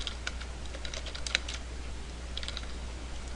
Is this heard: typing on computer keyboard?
yes